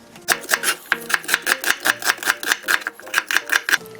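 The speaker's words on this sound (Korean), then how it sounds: "양파채를 썰어주시면 돼요" A knife chops onion into thin strips on a cutting board, about twenty rapid, evenly spaced crisp taps, close and clear with no talking.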